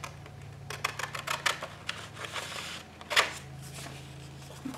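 Scissors snip through paper for an altered book journal page, a run of small close cuts and crisp paper rustles followed by one louder snap, over a low steady hum.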